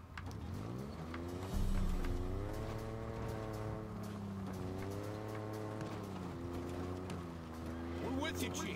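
A Halo Infinite vehicle engine drones and revs up and down while driving, steady and close, with game dialogue voices talking over it.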